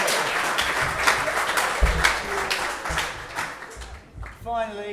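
An audience at a football club's awards night claps and applauds steadily, a dense wash of hand claps that fades toward the end as a voice begins speaking.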